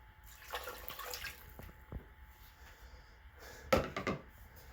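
Beef broth poured into a slow cooker, heard as short, faint liquid splashes and trickles, with a stronger pour near the end over quiet room noise.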